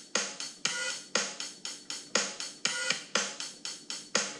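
Nine evenly spaced, punchy electronic drum-machine bass drum hits playing a paradiddle's right-hand notes, sharp attacks and quick decays, forming a steady repeating pattern with no other sounds.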